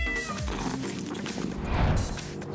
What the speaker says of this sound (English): Meow! The first guest already found a soft place.